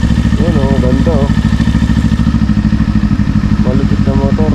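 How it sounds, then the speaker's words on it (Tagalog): A motorcycle engine idles with a steady low rumbling throb throughout, close by and loud, with brief voices or tonal chirps breaking through in places. "Malupit na motor."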